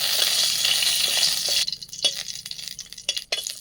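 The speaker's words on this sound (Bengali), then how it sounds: "দেখুন শুকনো লঙ্কাটা ভাজা হয়ে গেছে" Dried red chillies fry in oil, sizzling loudly and steadily for a moment, then the hiss drops away into quieter crackles and a few sharp pops and clinks.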